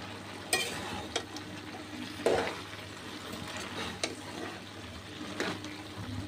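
Soft frying sizzle of flat beans in a pan with occasional scraping stirs and light clinks, moderately quiet and steady, no talking.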